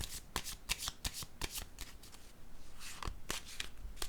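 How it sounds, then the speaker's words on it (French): Tarot cards slap and slide onto a table in a quiet room, a string of sharp, close papery taps and shuffling rustles at an uneven rhythm, with no voice heard. "Je vais déposer une autre carte ici."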